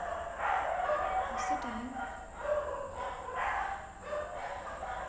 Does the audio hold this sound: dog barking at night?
yes